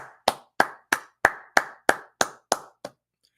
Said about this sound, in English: I want to clap it up